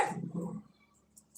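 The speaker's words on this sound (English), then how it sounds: "my dog just started barking" A pet dog barking indoors: two short, muffled barks close together at the start, then a pause and a faint sound at the end, with no talking.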